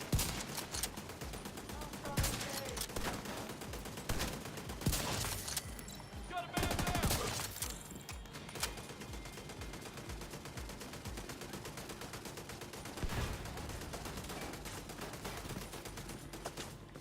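Rapid bursts of automatic gunfire in the video game The Division 2, dense crackling volleys with louder sharp shots scattered through, continuous and close.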